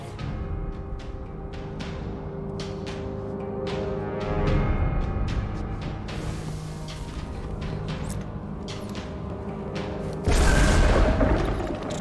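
A massive dreadnought warship's weapon firing in Destiny: The Taken King, deep, heavy booms and rumbling blasts rolling repeatedly over a sustained drone, with a louder eruption near the end.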